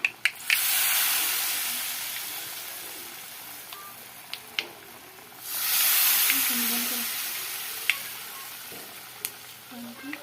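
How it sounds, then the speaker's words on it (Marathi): Potato rolls fry in hot oil over a low flame until crisp, giving a loud, steady sizzle that swells twice, broken by a few sharp clicks of a utensil. "बघा मस्त असं क्रिस्पी होईपर्यंत तळायचं कमी जाळेमध्ये जास्त जाळ नाही लावायचा"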